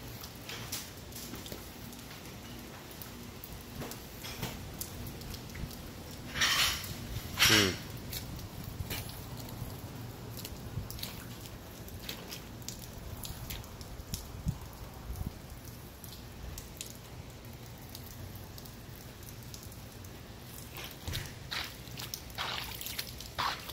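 Rain falls steadily onto concrete outdoors, a constant patter with scattered louder drips and splashes, close by, with a voice speaking now and then over it.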